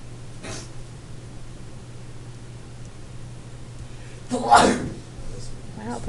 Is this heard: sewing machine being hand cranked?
no